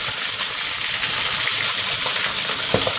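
Whole squid that were boiled first sizzle and crackle loudly in hot frying oil, with a constant dense spatter and an occasional sharper pop.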